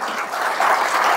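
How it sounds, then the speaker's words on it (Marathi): An audience claps in a brief burst of applause during a motivational speech, a dense, even patter of many hands at moderate loudness. "टाळ्या, बोगस टाळ्या"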